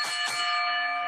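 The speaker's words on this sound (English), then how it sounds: "Let me ring the bell." A bell rings once with a bright metallic strike and a sustained ringing tone that slowly fades, close and clear.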